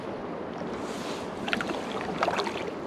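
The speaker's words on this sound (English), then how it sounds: "Been paddling for about 2 hours, maybe a little more" A canoe paddle dips and pulls through river water in two soft splashing strokes over a steady hiss of wind and current, fairly close and fairly quiet.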